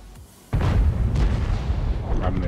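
A tank cannon fires in a video game with a sudden heavy boom that rolls into a sustained low rumble. A voice talks over the blast.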